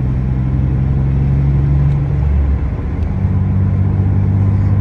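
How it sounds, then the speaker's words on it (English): A pickup truck drives while hauling a heavy load of gravel on the hitch, its engine droning loud and close with a steady low rumble and a brief dip in pitch midway. "Oh, this poor truck, this is heavy."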